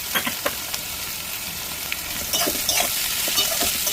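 Snake gourd and paneer fry in a pan with a continuous crackling sizzle and scraping spatula strokes; the frying grows louder and busier partway through.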